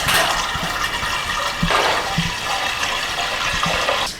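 Water gushing into the cooling system of an AMG car, well over twenty litres poured in: a continuous rushing, splashing flow with periodic surges and gurgles, close by and with no talk.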